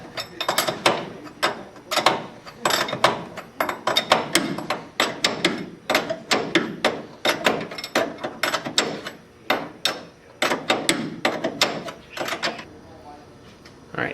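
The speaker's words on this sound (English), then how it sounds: "tighten down the new castle nut with the new lower control arm" A castle nut is tightened onto a new lower control arm with a ratchet, giving repeated close clicking bursts in an irregular rhythm that run through most of the stretch.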